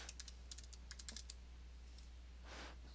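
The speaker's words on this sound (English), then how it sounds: "Let's just type the password" A password is typed on a computer keyboard as a quick run of light, close key clicks, followed by a pause and one softer key press over a steady low hum.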